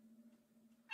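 A cat in the animated comedy Family Guy gives a short, sharp meow at the very end after a faint low hum, close and fairly loud.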